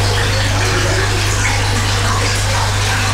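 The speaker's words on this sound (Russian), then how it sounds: "Где-то было даже слышно, как вода до сих пор течет из поврежденных труб." Water pours steadily from damaged pipes into a flooded basement, a loud, unbroken rushing and gushing that continues throughout.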